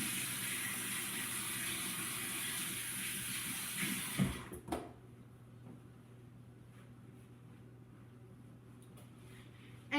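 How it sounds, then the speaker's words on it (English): Tap water gushes into a sink for handwashing in a home kitchen while muffins are being made, running steadily and close for a few seconds before cutting off, leaving a quiet room with a low hum. "So now I'm going to wash my hands."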